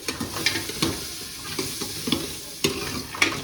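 Pumpkin curry with salt and chili frying in a hot pan, a close steady sizzle with the scrape and clack of a spoon stirring at irregular intervals.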